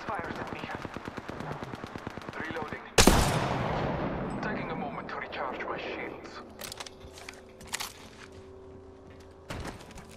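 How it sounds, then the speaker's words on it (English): Rapid automatic gunfire in the battle royale game Apex Legends, a fast burst of shots cut off by a loud blast that rings out into scattered echoes and further pops, with in-game voice callouts and effects around it. "Shots fired."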